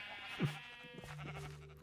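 A sheep in a video game bleats once, a wavering nasal cry, followed by another softer bleat against a layered ambient backdrop.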